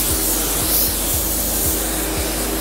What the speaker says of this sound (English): we'll get some sealer sprayed on this